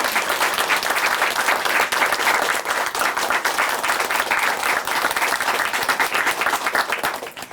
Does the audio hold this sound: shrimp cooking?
no